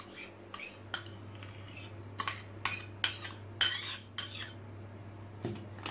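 A utensil clinks and scrapes against a bowl in a series of irregular knocks while tabbouleh of parsley, bulgur, tomato, onion, lemon and salt is mixed, over a low steady hum.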